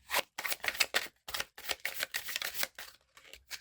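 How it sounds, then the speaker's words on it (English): Tarot cards are shuffled on a desk, giving a quick series of close, crisp riffling and slapping bursts with short pauses between them, with no voices. "Let me do a shuffle real quick on the desk before I do an upright shuffle."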